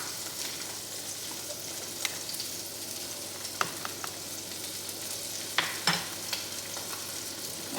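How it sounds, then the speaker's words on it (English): Honey glazed salmon frying on low heat in a pan gives a soft, steady sizzle, faint and continuous, with occasional light clinks and scrapes of a utensil nearby. "don't forget your salmon is cooking on low"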